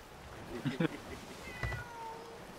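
A bony cat gives a couple of short, fairly close meows in quick succession, with faint background noise and a later brief thump.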